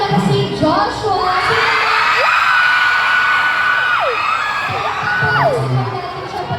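A concert crowd at a live show in Cebu screams and cheers. The shrill, sustained roar stays loud and close, with whoops rising over the mass of voices.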